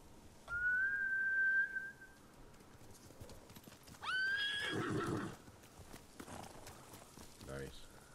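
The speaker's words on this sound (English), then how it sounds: "Bastards scared off the horses." Two horse whinnies from samurai mounts in Ghost of Tsushima ring out, a long high neigh early on and another a few seconds later, over a faint outdoor background with soft hoof clatter.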